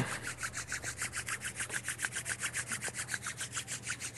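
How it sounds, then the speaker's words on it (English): Palms rub briskly together in a fast, even back-and-forth rhythm, a soft, close swishing that repeats steadily about seven times a second with no talk over it. "So rub your palms together at the heart center."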